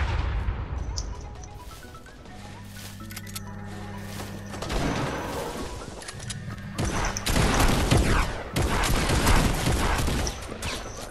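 Revolver fire in the video game Fortnite comes as repeated sharp shots and crashes in a dense game mix, louder and busier toward the end.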